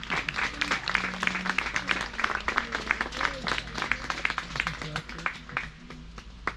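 An audience claps at an outdoor eagle show featuring North Atlantic sea eagles, a steady patter of applause with chatter and voices mixed throughout.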